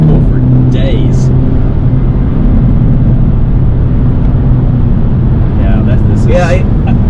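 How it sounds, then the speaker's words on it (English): A 2023 Hyundai Elantra N under full-throttle acceleration with quick gear shifts, heard as a loud, steady, close engine drone that holds its low, rumbling tone throughout. "when you're full throttle, the shifts are just blistering fast, and then you can actually feel that next gear pulling"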